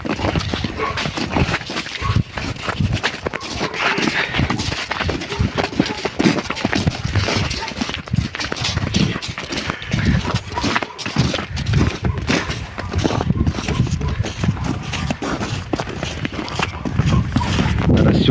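A famous heavy draft stallion named Tsigan, a competition champion in Ukraine, moves about outdoors with continuous hoof clatter and shuffling, mixed with dog barking and people talking nearby throughout.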